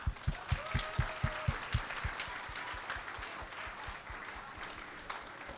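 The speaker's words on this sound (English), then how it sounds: "can we get a round of applause for the winners?" Applause for the winners at a graduation gala at Fort Canning. It opens with a few loud, distinct claps in a steady rhythm, then thins into quieter scattered clapping from the crowd.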